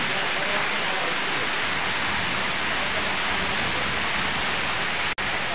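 Heavy rain pours steadily in the Satkhira region of Bangladesh, a dense, continuous hiss close by and loud throughout, with a single brief dropout near the end.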